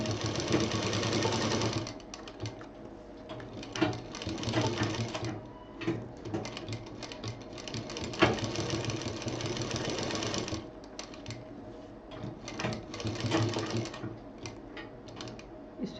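A sewing machine stitches a handy pouch, whirring up close in steady bursts that pause briefly and restart several times, with faint clicks between runs.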